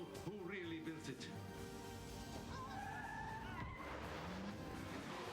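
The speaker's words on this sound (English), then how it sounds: "car crash" Cars skid and squeal through a crash scene in a movie trailer, with engine noise, tire screeches and crunching impacts under a continuous dense mix, faint and distant in level.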